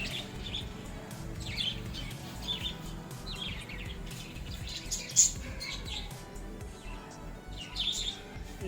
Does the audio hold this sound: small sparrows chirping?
yes